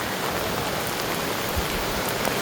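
Rain falls steadily at Franz Josef Glacier in New Zealand, a dense, even hiss of drops with no break and no voices.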